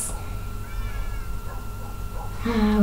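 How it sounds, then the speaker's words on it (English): Several cats meow in a room, with wavering high cries over a constant low background rumble; the sound builds louder near the end, and no one speaks. "Why does this room have so many cats?"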